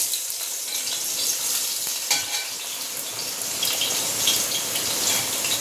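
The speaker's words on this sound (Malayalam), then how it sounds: "ഇപ്പം ഞാൻ സവാള വറുക്കട്ടെ" Sliced onions fry in hot oil in a pan for kuzhi mandi, giving a steady, close, even sizzle with faint crackles throughout and no talking.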